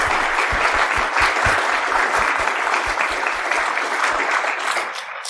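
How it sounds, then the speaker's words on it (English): Sustained, loud audience applause fills a conference hall after a technical security talk on Zigbee network exploitation, dense clapping throughout, tapering slightly at the end. "Please give them a big round of applause."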